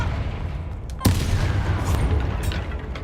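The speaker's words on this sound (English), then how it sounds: "Oh, that was an exploding barrel." A barrel blows up in Hogwarts Legacy with one sharp, loud blast, followed by a dense, rumbling wash of explosive noise and scattered crackles that keep going to the end.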